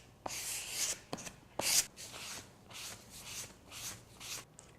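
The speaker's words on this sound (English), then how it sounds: "I apply the pore filler to the dyed sample board" Aqua Coat grain filler is rubbed onto a dyed wooden sample board, making soft, close scraping and rubbing strokes in an uneven rhythm with a few sharper knocks, quiet throughout with no talking.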